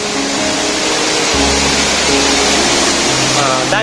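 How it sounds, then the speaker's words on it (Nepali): Purandhara waterfall in Dang, Nepal, heard as a loud, steady broadband roar of falling water that masks everything else, with someone speaking over it. "दाङको पुरन्दारा झरना"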